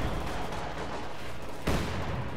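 Heavy mortar barrage in the World War II strategy game Company of Heroes 2: a steady roar of distant gunfire and rumbling battle noise, then one sharp, louder blast near the end, with no voices over it.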